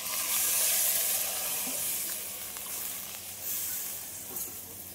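Potatoes frying in a hot pan sizzle loudly and continuously after water is poured in, a dense steady hiss that eases slightly and swells again, with no talking.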